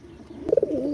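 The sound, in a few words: pigeons cooing, red-necked pigeon pair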